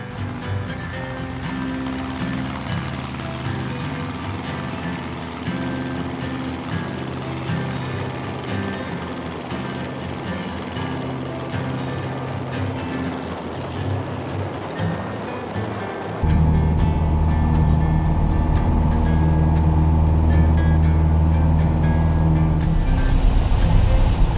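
Light aircraft G-CSBM begins its takeoff roll, heard from inside as a steady engine drone that suddenly grows louder and deeper when the throttle goes up, then holds at full power.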